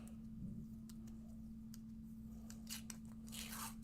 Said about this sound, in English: I'm just grabbing a piece of washi tape here